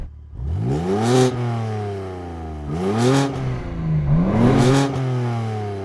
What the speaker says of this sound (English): I've got no rev limiter, so I can rev it all the way up.